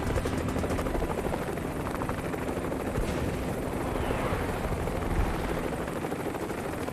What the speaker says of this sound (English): HMX helos are dropping an assault team by fast rope